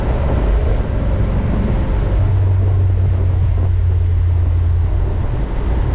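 A 1966 VW split-window bus with an air-cooled stroker engine being driven, a steady low engine drone and road rumble filling the cabin, with a brief rising tone partway through and no talking.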